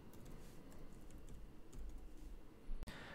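Quiet, rapid keystrokes on a computer keyboard sit close over a low background rumble, ending with a sharp click.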